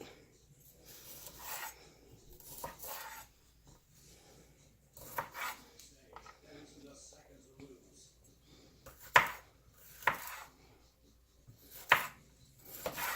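Garlic being chopped on a board, with spaced bursts of crisp knife strikes that grow sharper and louder toward the end, between quieter rubbing and scraping.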